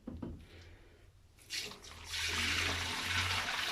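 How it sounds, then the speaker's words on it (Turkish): Dirty water being poured out of the tank of an Arnica Hydra Rain Plus carpet washing machine after cleaning a mattress, starting with faint trickles and building to a steady, louder gushing splash into a drain, close by, no talking. "Kirli suyu dökerken size de gösterelim."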